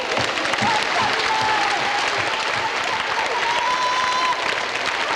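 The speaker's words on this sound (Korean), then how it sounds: "하나님께 영광의 박수 주시겠습니다" Loud, sustained applause from a large crowd at a church revival meeting, dense clapping filling the whole stretch with no break.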